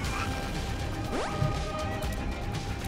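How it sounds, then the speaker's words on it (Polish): Enemy projectiles burst and shatter in The Binding of Isaac: Rebirth, a steady crackle of small breaking impacts with a brief whooshing sweep, heard over a continuous game backdrop. "Te strzały się jeszcze tak rozbijają niefajnie."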